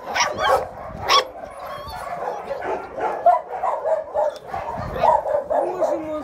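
Small high-pitched yaps and yips from puppies, scattered irregularly, with faint whimpers and a soft voice murmuring in the background.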